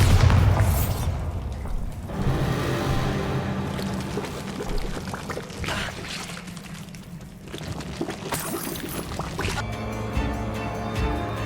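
Spell blasts from the fire and blasting charms in Hogwarts Legacy burst and rumble in an old abandoned room, with several booming hits and crackling debris over a dense game soundscape.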